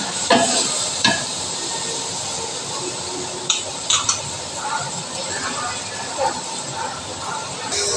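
Mint leaves being sautéed with ginger garlic paste in an oily pan, a constant close sizzle and hiss with a few sharp stirring clicks and scrapes, a voice talking briefly over it.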